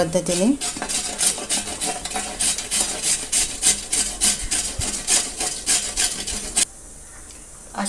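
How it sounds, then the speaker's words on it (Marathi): Carrots are rubbed against a hand grater for carrot halwa, making rapid, regular rasping strokes that are close and loud, then stop abruptly near the end. "इथं मी किसणी घेतली आहे आणि याच्यामध्ये आपण किसून घेणार आहोत"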